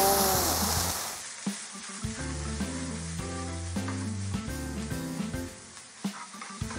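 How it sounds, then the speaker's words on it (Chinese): Ya fish sizzles as it fries in lard in a pan, a steady close hiss that runs through the clip beneath a louder music bed. "用猪油把鸭鱼煎一下，放一点佐料"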